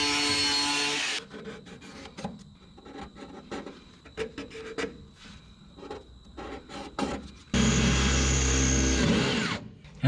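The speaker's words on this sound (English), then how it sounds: "Drill us a hole for a spot weld." A drill bores a hole for a spot weld in the steel body of a 1967 Scout, with a loud, harsh burst at the start and again near the end and quieter scraping and shop noise between.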